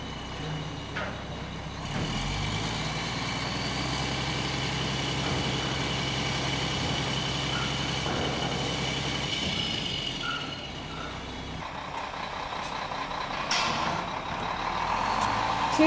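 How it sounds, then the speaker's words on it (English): A boom truck runs steadily as its boom unfolds and extends to lift oak beams and cribbing from a trailer at a house-moving site, with a constant engine drone, a reversing-type beep and hissing air releases, and no talk. "the boom is unfolded and extended to move the cribbing and beams from the trailer over to the work site"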